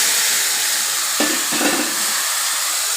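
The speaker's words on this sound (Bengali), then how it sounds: "ফোড়নটা আমার হয়ে গেছে আমি এখন ডালটা ঢেলে দিচ্ছি" Garlic tempering in a pan receives poured lentils for masoor dal with papaya, giving a brief burst of sizzling and hissing over steady frying noise, fairly close and moderate in level.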